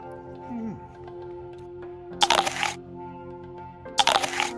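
Two sharp, crisp crunches of biting into a Washington apple, spaced about two seconds apart over a quiet background.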